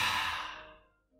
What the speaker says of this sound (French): Vous expirez par la bouche en faisant beaucoup de bruit.